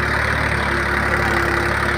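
A Mahindra 265 tractor running with a tiller attached, its diesel engine droning steadily and loudly up close with a constant low throb and a broadband mechanical rumble, no pauses and no speech.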